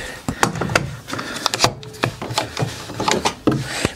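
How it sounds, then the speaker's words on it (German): Small wooden hand plane shaving a recycled wood kitchen shelf, loud rhythmic rasping strokes close up, repeating roughly every half second, with brief speech mixed in. "Mit meinem kleinen Lieblingshobel."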